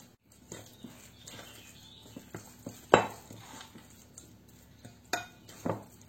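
A homemade burger meat mixture with sago flour is stirred in a bowl, giving scattered scraping and clinking utensil sounds with a few sharper knocks, close and fairly quiet, with no speech.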